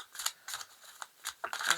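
Tarot cards are shuffled softly in a few short, separate bursts of papery slaps and flicks, faint and close, with quiet pauses between them.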